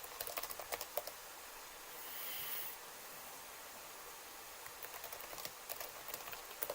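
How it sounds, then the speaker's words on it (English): Fingers type on a computer keyboard, soft clustered key clicks in quick irregular bursts, faint and close, with a short pause in the middle. "Okay, so I'm typing now."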